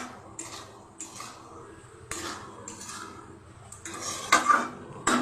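Food is stirred and sautéed in a pot, with a spoon scraping and knocking against the metal in a series of close, irregular clatters over a faint background sizzle.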